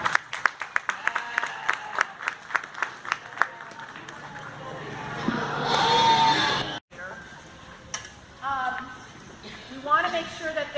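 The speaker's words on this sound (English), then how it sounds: "Let's give them a round of applause." Audience applause at a sheep show at the Black Sheep Gathering in Oregon: a few scattered claps swell into a moderate round of clapping, followed by lighter talk and crowd noise.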